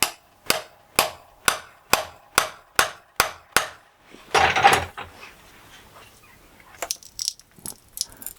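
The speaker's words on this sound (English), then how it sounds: "with a little chisel and a few taps" A small chisel taps bonsai deadwood in a steady series of about nine sharp, evenly spaced knocks, followed by a brief crunching break and scattered lighter clicks and scrapes, all close and distinct with no speech.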